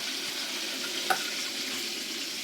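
Steady, crackling sizzle of paksiw fish frying in hot oil, close and continuous, with a brief clink partway through.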